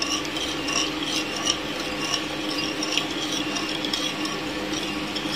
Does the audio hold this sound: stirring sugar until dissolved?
yes